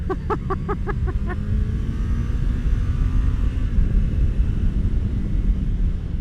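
A 2019 Kawasaki Z900RS Cafe motorcycle in first gear on a ride: a brief pulsing rev at the start settles into a steady, loud engine drone mixed with wind rush.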